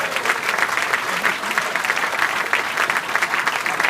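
Steady applause from an awards dinner audience, many hands clapping continuously and fairly close, with no pauses over the few seconds.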